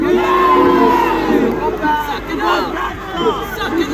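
A large crowd at a WWE wrestling meet-and-greet in Perth boos and jeers loudly and continuously, a dense wall of voices with shouts rising throughout.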